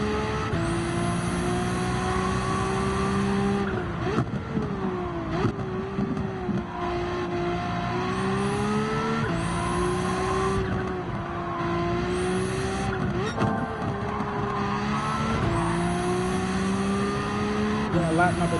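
A tuned Godzilla race car roars around a track in a racing video game weekly challenge, its engine rising and dropping steadily through repeated gear shifts and corners, loud and continuous under a talking voice.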